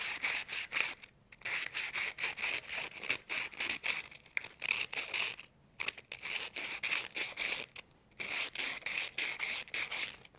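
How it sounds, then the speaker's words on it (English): Rhythmic back-and-forth rasping of 320-grit sandpaper smoothing a homemade membrane clarinet part, close and steady strokes in bursts with short pauses, no talking. "we can sand it down just a bit"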